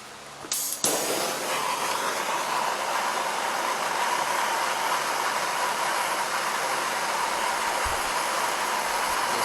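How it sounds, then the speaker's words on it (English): Small torch heating a seized metal part on a homemade bush hog, a brief clunk and click of ignition followed by a steady, loud roaring hiss that holds for the rest of the clip. "I'm going to have to grab a small torch real quick."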